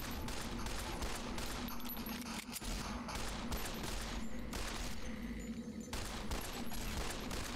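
Gunfire rattles through a Fallout: New Vegas firefight, dense overlapping volleys and rapid automatic bursts crackling almost nonstop, fairly quiet and distant in the mix.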